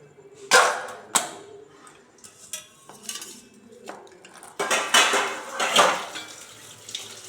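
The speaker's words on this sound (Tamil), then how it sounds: "தட்டு வச்சு மூடிடலாம்" A ceramic plate set down over a cup of soaked field beans in a home kitchen, giving a few sharp clinks and knocks of crockery with scattered softer handling clatter.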